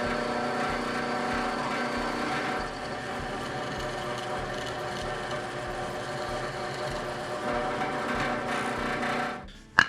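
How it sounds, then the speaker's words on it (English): A drill bores holes through a metal spacer for a tractor snow pusher, giving a steady, close, whirring grind that runs continuously before stopping abruptly with a short clunk at the end. "now I can finish drilling these holes"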